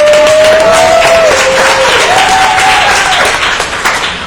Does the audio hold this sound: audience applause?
yes